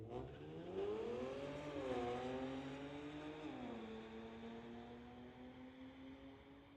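A BMW and a 2017 Honda Civic Si launch in a street-legal drag race, one loud engine drone dominating and climbing in pitch in stepped surges as it shifts through gears, then holding a steady high roar as it pulls away, no voices.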